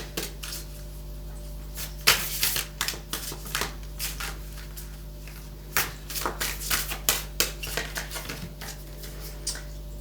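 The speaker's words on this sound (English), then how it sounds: "I saw that earlier when I was shuffling the deck." A deck of cards is shuffled in a quiet room, producing a string of quick, crisp riffling clicks in uneven bursts over a steady low hum, with no talking.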